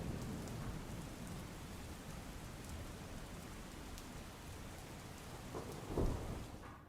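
Heavy rain pours steadily over the Surendranagar fair grounds, a dense even hiss throughout, with a brief louder gust or rumble near the end.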